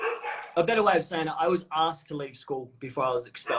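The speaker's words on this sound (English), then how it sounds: "if you can hear dogs barking, they're my dogs" Several pet dogs bark indoors in the background, sharp short yaps under someone talking steadily up close.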